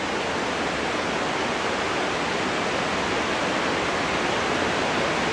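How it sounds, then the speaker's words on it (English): Steady, loud rushing roar of a waterfall close by near the bottom of a dam, broadband and unbroken throughout with no voices. "Hear that waterfall?"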